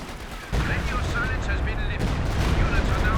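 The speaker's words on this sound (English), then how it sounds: "nice Stuka barrage that time" A Stuka rocket barrage in a Company of Heroes 2 one-versus-one match erupts half a second in, a loud, continuous rumble of dense explosions and crackling blasts that may carry faint talk beneath it.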